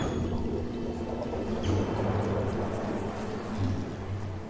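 Water being distributed through pipes in the city-building game SimCity: a steady rushing, pouring wash of water with a faint low hum beneath, continuous and moderately loud.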